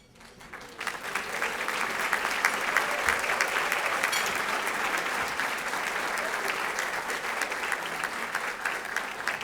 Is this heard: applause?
yes